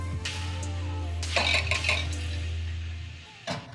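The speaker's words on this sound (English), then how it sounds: "Going to use my whisk to sift everything together" A whisk stirs flour, sugar, baking powder, salt and spices together in a bowl on a professional-style range, giving light metallic clinks and scraping strokes over a steady low hum, close and moderately loud.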